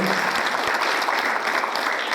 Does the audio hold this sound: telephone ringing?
no